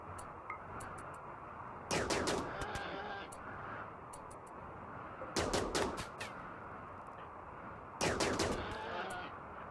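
Gunfire volleys aimed at a polar bear on an ice sheet in RimWorld, arriving as three short, loud bursts of shots spaced a few seconds apart over a steady background bed.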